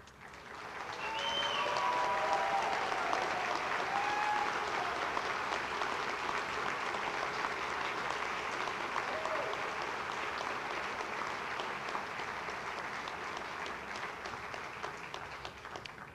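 A large audience at a university winter commencement applauds the graduating class, a dense, steady roar of clapping that swells early and then holds on evenly to the end.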